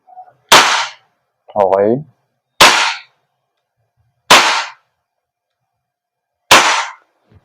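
WE Hicapa 5.1 T-Rex airsoft gas blowback pistol fires four sharp, loud, separate shots at uneven intervals during a target test, with a brief spoken word between the first two shots and silence around them.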